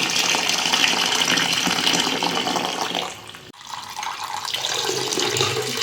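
Goat tripe being washed under running water, a steady gushing tap flow splashing into a sink with a brief dip near the middle before the flow resumes, close and continuous with no voices.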